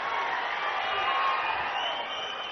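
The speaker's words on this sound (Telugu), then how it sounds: "గట్టిగా చప్పట్లు కొట్టి అభినందించడం" Audience at a public meeting with the Chief Minister clapping to congratulate officials, a dense continuous patter of many hands with crowd murmur, steady and fairly loud for a couple of seconds.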